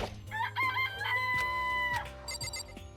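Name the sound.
chickens clucking in Danganronpa video game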